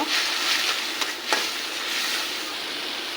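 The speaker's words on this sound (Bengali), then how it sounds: "এখন এগুলোকে ভালো করে কষিয়ে নেব" Ground spices with salt, chili and coriander powder sauté in hot oil for a fish and bottle gourd curry, making a continuous, dense sizzle up close. A couple of brief stirring scrapes stand out early on.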